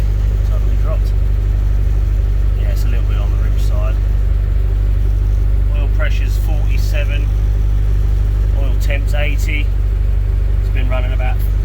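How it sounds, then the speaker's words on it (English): A K-swapped Honda Civic idles with a steady low rumble that sits close and constant, while brief higher mechanical chirps and clicks come and go over it. "Engine sounds a little quieter"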